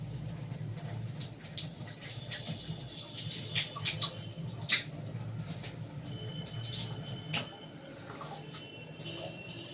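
Thankuni (pennywort) leaves being washed in water by hand: a steady wet rustle with small splashes and drips running for about ten seconds, fairly close and quiet.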